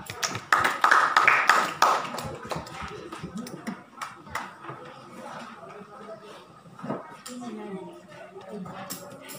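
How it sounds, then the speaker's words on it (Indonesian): Students in a classroom give a short burst of clapping near the start, loud and fairly brief, then it fades into quieter room noise, scattered taps and speech. "Bagi tepukan."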